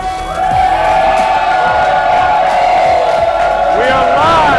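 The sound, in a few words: pub crowd cheering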